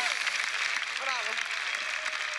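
Studio audience on a television game show applauding and cheering for contestants, a dense, continuous wash of clapping with brief whistling or shouts mixed in, loud and steady throughout.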